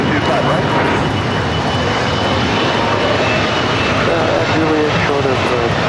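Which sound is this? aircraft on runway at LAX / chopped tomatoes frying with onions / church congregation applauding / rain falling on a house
aircraft on runway at LAX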